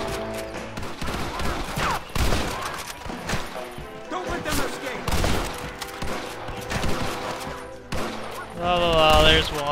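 Gunfire in Red Dead Redemption: rapid, repeated gunshots crack in irregular bursts amid a shootout, loud and close, with someone talking over the action and a brief musical swell near the end.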